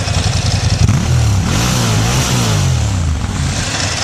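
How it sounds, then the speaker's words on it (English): A Ducati Monster 1100 V-twin engine revs hard at close range, loud and gruff, with the pitch rising and falling through a couple of throttle blips before settling into a rough idle. "That V-twin, it's industrial sounding, it's evil"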